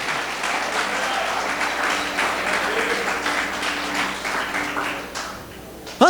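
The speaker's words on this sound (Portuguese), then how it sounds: "Pode aplaudir, querido." A church congregation applauds at a Portuguese-language service in a dense, sustained wash of clapping that holds steady and then fades slightly near the end.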